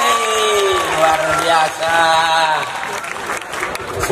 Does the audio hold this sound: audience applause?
yes